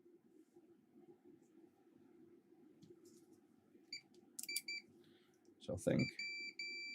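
A multimeter set to continuity, used while testing prototype products, gives a few short electronic beeps near the end after quiet handling noise, and someone speaks briefly.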